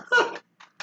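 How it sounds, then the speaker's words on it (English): A short, sharp cough burst close to the mic, followed by two brief, fainter coughing sputters. "I wasn't trying to cough into the mic."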